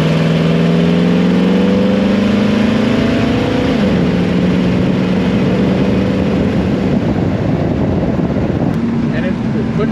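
A 1933 Ford Roadster with a 350 engine accelerating at half throttle on a test drive, a loud, close engine drone that climbs in pitch, drops at a shift, then climbs again with heavy wind rumble.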